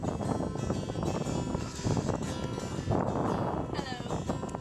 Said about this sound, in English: Finally got some wind, so we're moving.